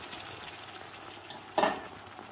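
Onions frying in a pan for menemen, a soft steady sizzle with one brief louder burst as tomatoes go in, heard alone.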